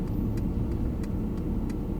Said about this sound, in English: The car is just parking